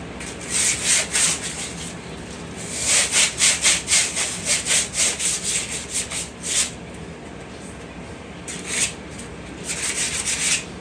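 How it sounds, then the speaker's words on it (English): Heavy 80 grit sandpaper is rubbed by hand over a surface during a Jeep Wrangler exhaust restoration, close rhythmic back-and-forth rasping strokes in bursts with brief pauses between them. "Got regular sandpaper, heavy grit, 80 grit."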